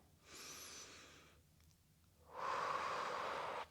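Deep breaths taken while holding a stretch in a total body deep stretch routine: a long inhale, a pause, then a louder, longer exhale, close and alone.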